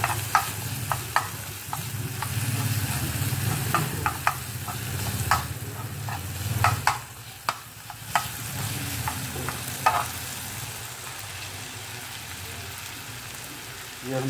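Mushrooms frying with already-fried onions and tomatoes for a restaurant-style mushroom masala curry, a dense steady sizzle with sharp clacks of a spoon stirring against the pan at irregular intervals.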